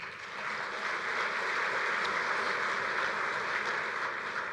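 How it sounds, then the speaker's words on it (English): Sustained applause from a large convention audience fills the space at moderate loudness, an even wash of clapping with no voices on top. "Please give yourselves a round of applause."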